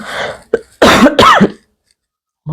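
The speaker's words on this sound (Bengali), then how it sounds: "ঠান্ডা লেগেছে প্রচন্ড কাশিও হয়ে গেছে" A few harsh, loud coughs close up in quick succession, followed by a brief silence and the start of another cough.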